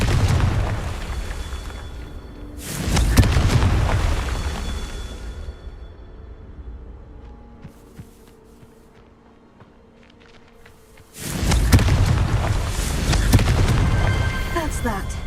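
Confringo fire spell explosions in Hogwarts Legacy go off as two loud, deep, rumbling blasts, the second one sustained, separated by quieter ambient crackle and small scattered impacts.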